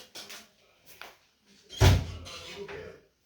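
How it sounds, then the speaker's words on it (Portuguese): A door being opened indoors, with a thump and rattle mid-clip after faint shuffling, while people talk quietly around it. "Vou abrir a porta."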